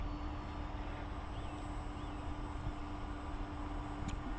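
A small plane flies low to the ground with a steady, droning engine that holds at a moderate level throughout, distant and unbroken by voices.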